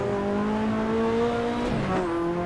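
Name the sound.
Ferrari F40 engine revving in Assetto Corsa video game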